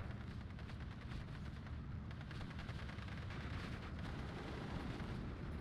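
An MG42 machine gun fires in a WW2 real-time strategy game, as a dense, continuous rattle of gunfire and blasts, faint and distant under the battle noise.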